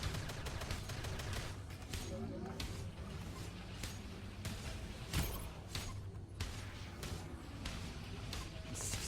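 Gunfire crackles in the online shooter Global Agenda during a payload match, with repeated sharp shots and bursts, fairly quiet and mixed with game noise and talking.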